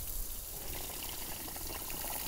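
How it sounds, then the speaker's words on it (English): A Sukomatic pump driven by garden-hose pressure sucks water out of a jet ski's footwells, giving a steady, close rushing and gurgling of water that runs without a break. "the Sukomatic uses the hose pressure to suck out all of the water in the footwells"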